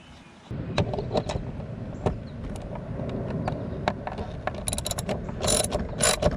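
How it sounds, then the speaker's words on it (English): A ratchet clicks in quick, close, irregular bursts of sharp pawl ticks while tightening 7/16 nuts on the bolts of a Humminbird Helix 10 mount being installed on a 2019 Nitro Z18 boat. "We'll put it on all the bolts, and then we're going to tighten them down."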